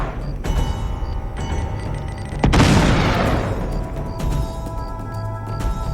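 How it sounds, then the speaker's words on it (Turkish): A bomb goes off in the handheld game Uncharted: Golden Abyss: a single loud, heavy boom bursts out midway and rumbles away over a steady background of game sound. "Bombayı ye aklın başına gelsin"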